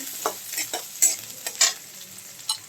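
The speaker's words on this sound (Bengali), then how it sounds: "কালো জিরার ফোড়নটা দিয়ে নেব" Black cumin (nigella) seeds tempered in hot oil, giving a sparse series of sharp crackles and pops at irregular intervals over a quiet background, close and with no speech.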